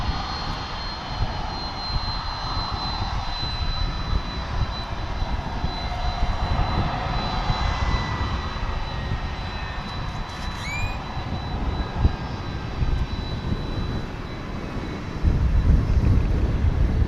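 Airplane jet engines roar on a runway at DFW airport, a steady, loud, broad rumble with a faint whine that holds throughout and swells slightly near the end.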